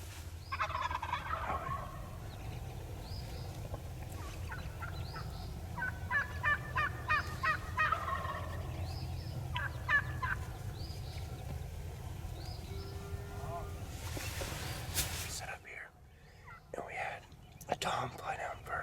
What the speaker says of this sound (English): They're gobbling a little bit, so we'll see what happens.